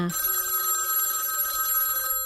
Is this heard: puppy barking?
no